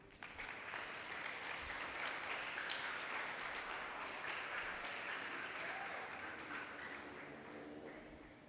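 A church congregation applauds Jesus with sustained, even clapping from many hands, heard from some distance for about eight seconds and gradually fading near the end.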